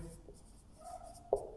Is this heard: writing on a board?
yes